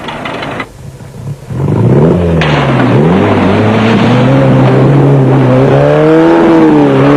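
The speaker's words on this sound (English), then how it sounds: "That's a Class C car, which is more of a budget vehicle" A Class C budget off-road race car at a South African off-road race roars close by. After a brief quieter start the engine revs hard, with rising and falling pitch through gear changes, loud and sustained.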